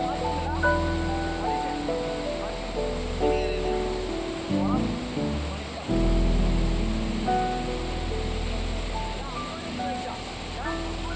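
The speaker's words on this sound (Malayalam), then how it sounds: "അതിഭീകരൻ ഒരു വെള്ളച്ചാട്ടമാണ്" Roaring waterfall on a rain-swollen river during heavy rain at Netravati Peak, a broad steady rush of water close by, with harmonic tones and talk layered over it.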